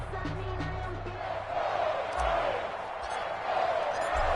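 A roaring stadium crowd in an EA Sports NFL video game before a Los Angeles Rams versus New York Giants matchup, swelling and surging in waves, with faint talk underneath.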